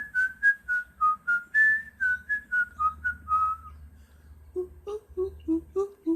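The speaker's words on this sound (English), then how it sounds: "my whistle called them to the door" A person whistling to call birds, a series of short, clear whistled notes in a quick repeating pattern, then a lower run of similar chirpy notes, close and alone with a faint hum beneath.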